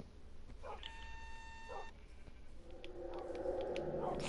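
Several dogs yipping and whimpering indoors at a house, short bursts near the start, then busier overlapping barks and movement later, fairly close and moderately loud.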